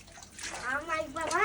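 Water splashes and sloshes as children empty a household water tank, with children's voices chattering and calling out over the steady wet noise.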